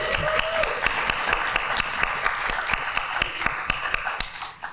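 An audience at an animal advocacy talk claps for a longtime member of the movement sitting in the room. The clapping comes as a steady run of sharp, evenly spaced hand claps over a continuous noisy wash.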